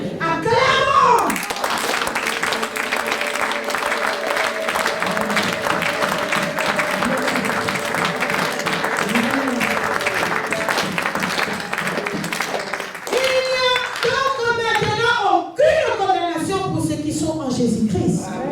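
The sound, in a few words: congregation applauding in church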